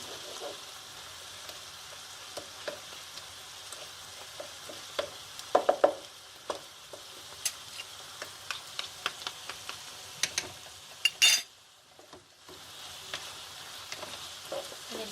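Chicken sauté with mushrooms and curry sauce fries in a pan as tomato paste is stirred in, a steady soft sizzle broken by frequent clicks and scrapes of the spoon against the pan.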